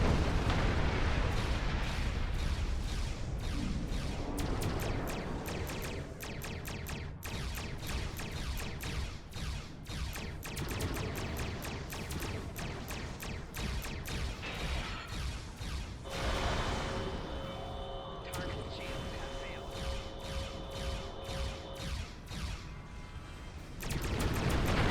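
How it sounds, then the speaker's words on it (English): Enemy weapon fire and explosions pound away in a Star Trek Online space battle, a long run of rapid, sharp blasts and booming impacts layered over a constant rumble, with tonal game sounds drifting in later. "They keep shooting at me,"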